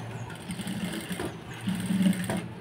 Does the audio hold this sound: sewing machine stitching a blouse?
yes